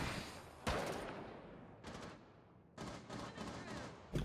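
Bursts of gunfire ring out in a tactical shooter match, three loud volleys of rapid shots at irregular intervals with decaying tails between them.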